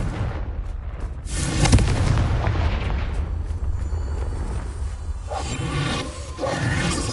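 A Confringo fire spell in the Hogwarts Legacy video game on PS5 goes off as a loud, booming blast, followed by a sustained roar and rumble. A second burst comes near the end, with no talking.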